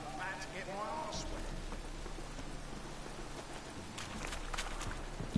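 Steady rainfall in The Witcher 3: Wild Hunt, a soft, continuous patter of drops on surfaces, faint and even throughout, with quiet voices and a few scattered taps.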